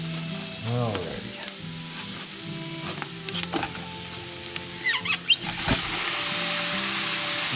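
Meat browning with garlic and onion in a pan for chili sizzles steadily up close, with spoon stirring and scraping clatters breaking through and a brief spoken word near the end.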